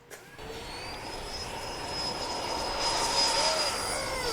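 An E-flite Habu STS 70mm electric ducted-fan RC trainer jet flies past, its steady high-pitched fan whine swelling slightly louder over a few seconds, with faint voices in the background.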